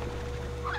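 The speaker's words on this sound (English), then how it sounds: "Chickens! Excuse me, hen hens!" In the video game Slime Rancher, hen hens give a short clucking fowl call, brief and moderately loud over steady game background noise.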